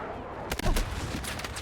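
A sharp gunshot cracks mid-clip over a busy background of distant battlefield gunfire in the shooter Battlefield 6, followed by scattered fainter shots.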